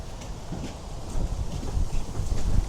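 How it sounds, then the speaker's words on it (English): Cold, gusty wind blows across an open park, a steady low rumble buffeting the microphone with surges that grow stronger toward the end, no voices present. "Man, it's so windy."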